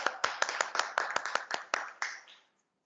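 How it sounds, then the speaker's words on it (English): Clapping for the Ethics Bowl 2022 teams at APS Kirkee: about a dozen crisp, separate hand claps in a loose rhythm, close and clear, trailing off into silence. "A round of applause for all our teams."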